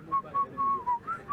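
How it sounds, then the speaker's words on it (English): A person whistles a short melodic phrase from the middle eight of a 1980s pop song, a clear, close tune of several quick notes with no talking over it. "I can whistle the middle eight."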